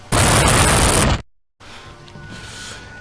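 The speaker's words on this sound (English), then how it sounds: "that explosion's gonna happen every time I say Ziggy Buggy Doog" A loud explosion in the video game Okami, a dense roaring blast of about a second that cuts off into brief silence, then quieter game ambience.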